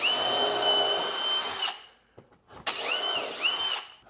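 A power drill bores a skinny hole through a wall, a close, loud whine that runs about a second and a half, stops, then resumes in a short burst with shifting pitch.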